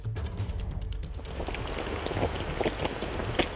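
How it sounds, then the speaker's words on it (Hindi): Heavy rain pours steadily on the Shipra riverbank in Ujjain, a dense continuous hiss with scattered close drops spattering throughout, loud and unbroken with no voices. "देखिए आप, कितनी जोरदार बारिश हो रही है"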